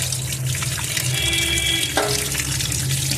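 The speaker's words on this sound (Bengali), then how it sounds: "এখন মাছগুলো সব জল দিয়ে ধোবো, ভালো করে ধুতে হবে জল দিয়ে।" Tap water runs steadily into a sink while fish are rinsed under it, a continuous close splashing with a brief shift in the flow partway through and no talk.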